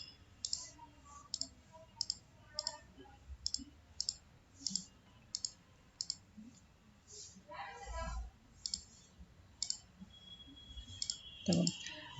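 Computer mouse clicks while working in Photoshop, a steady series of sharp, close single clicks roughly every half second, with a faint quiet voice and light background noise between them.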